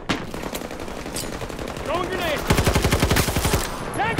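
Factory GEW rifle fire in Battlefield 2042: after a stretch of busy background game sound, a rapid, evenly spaced burst of loud close shots rattles for about a second, with a few scattered effects around it.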